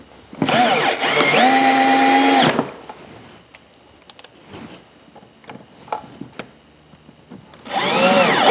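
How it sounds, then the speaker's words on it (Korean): Power drill whines loudly as it bores holes to fix the top of a drawer cabinet, one long burst and a second starting at the end, with softer tapping and handling noises between. "드릴로 구멍을 뚫고"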